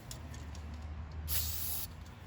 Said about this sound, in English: clean them off with a bit of brake cleaner